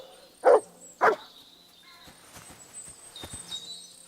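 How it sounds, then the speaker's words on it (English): A dog in the video game Kingdom Come: Deliverance II gives two loud, sharp barks about half a second apart, followed by quieter rustling, footsteps and faint bird calls. "He's not barking at the fox or the coyote though."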